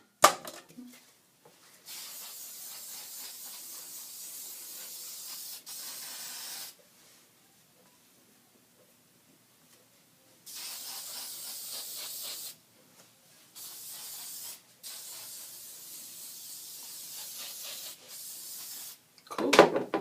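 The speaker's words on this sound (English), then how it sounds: "And put a little oil sheen on it." Oil sheen sprayed from an aerosol can onto a hair weave: several long, steady hissing bursts of a few seconds each, separated by quiet pauses, close and fairly soft.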